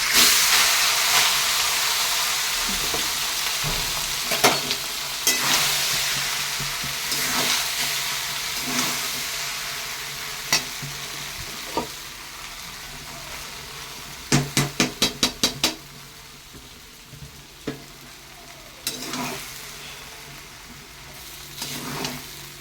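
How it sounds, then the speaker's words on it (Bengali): Rice is added to a pot for pulao and stirred, making a loud hissing sizzle that slowly settles, broken by sharp scrapes and clinks of the spoon, including a quick burst of rapid knocks near the middle. "এবার আমি চালগুলো দিয়ে দেবো।"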